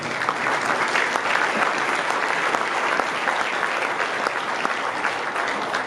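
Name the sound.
audience applause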